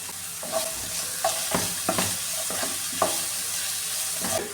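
Onions and chicken curry ingredients sautéing with salt in a hot pan: a continuous close sizzle broken by repeated scraping and clacking strokes of a spoon, with no talking.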